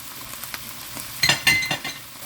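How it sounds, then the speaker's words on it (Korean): Onion and eggplant stir-frying in a pan, a soft steady sizzle broken by a few louder scraping stirs near the end, close and without talk. "처음에 양파와 가지를 넣어서 볶다가"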